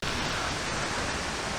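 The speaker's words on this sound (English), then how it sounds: "Best experience so far behind the waterfall." Waterfall in Iceland roaring steadily from close behind the falling water, a dense, unbroken rush of spray and churning water with no pauses.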